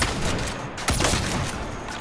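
A sniper rifle shot rings out in the Saints Row video game, a single sharp crack heard up close over steady gunfire and the clamor of a game scene.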